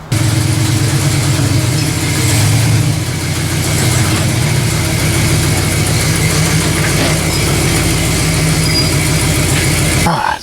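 A Jeep Scrambler off-road vehicle's engine runs during a test drive, a loud, steady, close mechanical drone that holds evenly throughout and cuts off abruptly at the very end.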